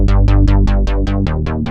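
A synth bass patch with sixteen unison voices switched on plays a steady run of about nine evenly spaced plucked notes, thick, buzzy and loud, with no voices over it.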